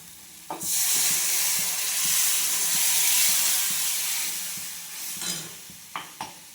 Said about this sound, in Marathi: तर पाणी टाकून घेतलेलं आहे